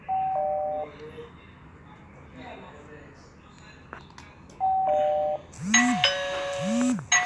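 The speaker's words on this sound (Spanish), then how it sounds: "Vamos a tocar el timbre." A Pro 8000 IP intercom doorbell rings with clear electronic chimes, one short tone early, then a longer ding-dong sequence repeating near the end, loud and close, with faint talk between rings.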